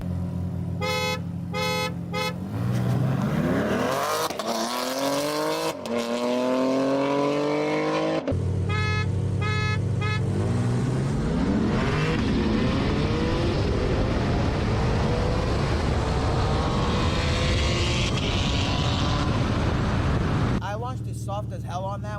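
A BMW G80 and a Corvette C8 drag race, engines roaring and revving loudly with rising gear-change sweeps, loud and close throughout, with a brief horn-like burst and people talking over the engine noise.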